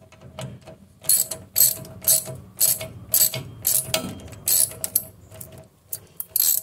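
Ratcheting brake cable tightener on a Holden Rodeo TF 2.6 being worked in short bursts of sharp mechanical clicking, close and loud, with brief pauses between strokes.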